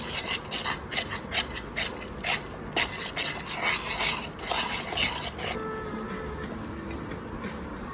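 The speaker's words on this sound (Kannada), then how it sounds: "ಹಾಕ್ಕೊಂಡು ಚೆನ್ನಾಗಿ ಮಿಕ್ಸ್ ಮಾಡೋಣ" Garlic butter is mixed by hand into maida flour dough in a bowl. It makes a repeated rubbing and scraping with light clinks of utensil on dish, steady and close, with no talking.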